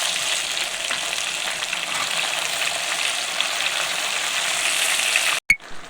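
Tomatoes frying in onion oil in a pot for chicken biryani, a steady bright sizzle running throughout, close and even, ending in a sudden clatter near the end.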